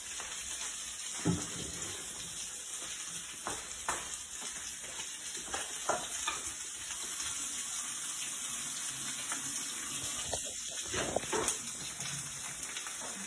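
Tap water runs steadily into a kitchen sink while food is rinsed during a fish taco cooking session, a continuous close hiss with brief splashes and clatters, no talking.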